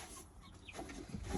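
Young chickens give a few soft, brief clucks and chirps close by over a faint background hiss, with no talking.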